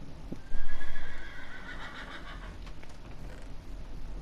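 A horse in the Minecraft video game whinnies loudly once, a rising then falling call with a few soft hoof clops behind it, heard alone without talk.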